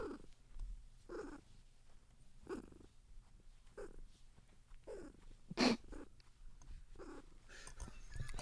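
A cat purrs and lets out short throaty noises while being playfully grabbed, several separate bursts roughly every second, close and fairly quiet.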